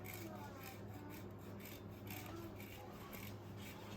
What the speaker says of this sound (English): We're gonna grate some cheese.